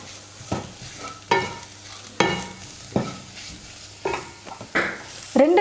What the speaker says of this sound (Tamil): ரெண்டு நிமிஷத்துக்கு மசாலாம் சேர்த்து நல்லா வதக்கிக்கிட்டேன்.